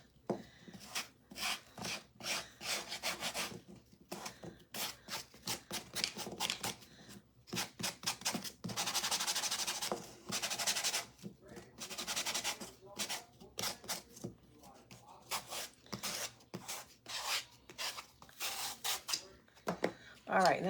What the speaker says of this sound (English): I'm going to go around this circular edge here that's kind of lifted